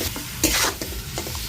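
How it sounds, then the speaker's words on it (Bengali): Mutton frying with turmeric over low heat, close scraping stirs across the pan over a soft sizzle, one brief louder scrape, no talking. "যে হলুদ দিয়ে যাতে আস্তে জালে ভালো করে ভেজে নেব"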